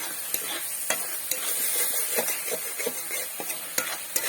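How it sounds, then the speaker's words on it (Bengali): Ground spices are stirred into a vetki fish-head dish in a pan, with a soft continuous sizzle under scraping strokes and occasional sharp taps of the spoon against the pan. "আর সবগুলি মশলা এতে দিয়ে আছে, দিয়ে সবগুলি ভালোভাবে নেড়ে নেব।"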